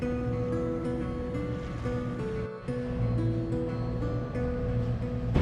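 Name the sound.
rough sea waves seen from a sailboat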